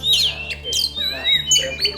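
A kacer, or oriental magpie-robin, calls nearby in a loud, varied run of bright whistles, chirps and squawks, with short gaps between phrases and no talking.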